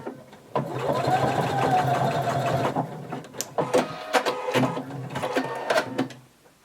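A sewing machine stitches a few short bursts to tack elastic in place on a little black dress, with a steady whir giving way to choppy stop-start stitching, close and alone.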